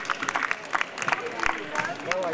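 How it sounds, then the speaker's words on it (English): Audience applause at an opening ceremony for a ladies' wing event, a scattered round of clapping mixed with crowd murmur and a speaking voice over it. "This is a huge round of applause, ladies and gentlemen."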